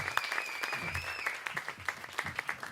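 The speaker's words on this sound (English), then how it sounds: "give her a round of applause" Applause from a cabaret audience after a performer, a thin, scattered patter of claps at moderate distance, uneven and tapering, with a faint tone and murmur behind it.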